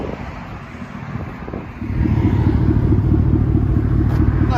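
A 2020 Chevy Silverado with a 5.3L V8 and Flowmaster FlowFX exhaust idles outdoors in wind, its deep, steady rumble swelling louder after a quieter opening and then holding even and continuous.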